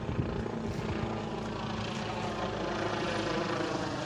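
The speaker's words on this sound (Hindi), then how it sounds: "वो हेलीकॉप्टर जा रहे" A helicopter passes overhead outdoors, its steady rotor and engine drone forming a continuous moderately loud rumble with no talking.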